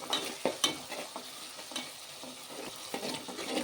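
Tomato and green chillies frying in oil in a pan for a village-style bottle gourd curry, a soft steady sizzle broken by several sharp scraping stirs of a spoon, close and moderately quiet.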